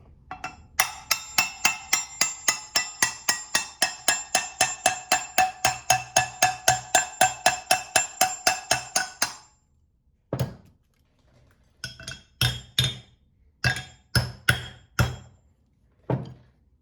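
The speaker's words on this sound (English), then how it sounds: "now I have to put it down and hammer it out even more" A hammer knocking a part out of a 1970s exercise bike, a fast, steady run of about thirty sharp metallic strikes, then a pause and a few slower, heavier blows, loud and close.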